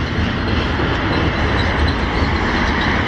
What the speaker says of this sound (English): that's a much longer train than I thought it would be.